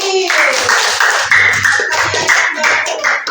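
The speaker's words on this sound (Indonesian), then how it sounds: "tepuk tangan buat Mas Fauzi" Clapping in a classroom lesson, a quick run of hand claps in a steady rhythm, fairly loud and close, with a voice briefly audible at the start and faint tones underneath.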